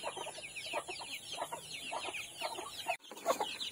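Chicks being fed on a backyard farm, with repeated soft clucks and high peeping calls in short bursts, close and fairly quiet, with a brief thump near the end.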